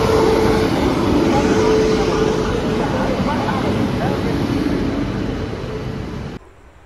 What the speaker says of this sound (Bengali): ট্রেন কিন্তু ঢুকে গেছে প্রায়।